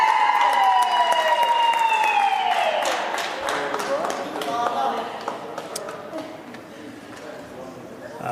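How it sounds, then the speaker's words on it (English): At a South African bill-signing ceremony, scattered clapping swells briefly with a few cheers. A wavering tone and voices sit over it, and the applause thins toward the end. "A round of applause, please."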